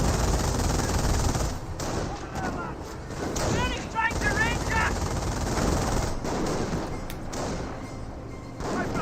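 Machine gun fire from an infantry half-track in the Company of Heroes video game, with bursts and gunfire mixed into dense battle noise while a commentator talks continuously over it.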